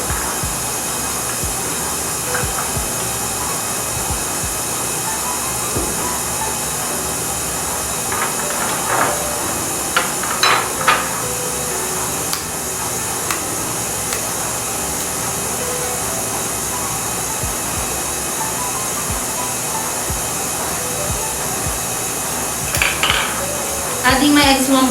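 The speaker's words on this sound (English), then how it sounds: "I'm going to start the mixer in a low speed, adding my eggs" Electric stand mixer running at low speed, beating cake batter for a rainbow cake while eggs go in, a continuous whirring hum with occasional rattling clinks from the bowl, steady and fairly loud throughout.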